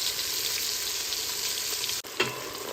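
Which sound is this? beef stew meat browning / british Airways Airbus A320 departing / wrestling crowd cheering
beef stew meat browning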